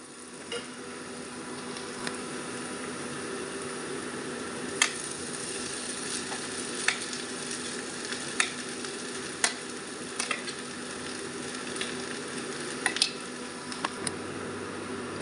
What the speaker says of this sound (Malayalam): സോയ ചേർത്ത് കൊടുത്തതിന് ശേഷം നന്നായിട്ടൊന്ന് ഇളക്കി യോജിപ്പിച്ചെടുക്കണം